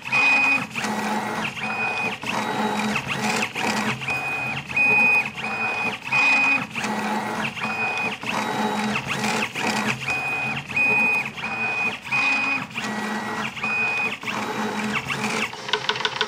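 A Lobo 3D printer's head moving at 500 mm/s with high acceleration, giving busy whirring stepper-motor buzzes with recurring high tones and quick direction changes, close and continuous.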